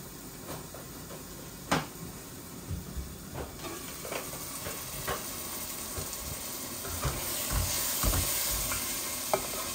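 Chicken frying with tomato puree in a pan, a continuous sizzle with repeated scraping strokes of a spatula stirring through it, close and steady throughout.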